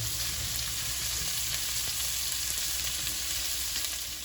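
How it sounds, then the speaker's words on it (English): Onions frying in oil for a mutton curry, a steady, close hiss and sizzle that holds evenly throughout with no talking. "Cook onion until oil oozes out."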